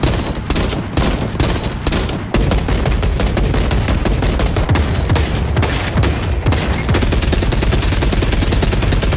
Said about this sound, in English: The shooting sounds terrific.